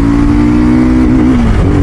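BSA Gold Star 650 motorcycle engine revving up under pickup, with a loud, close, continuous drone that climbs steadily in pitch; the engine is noted to misfire above 4000 RPM.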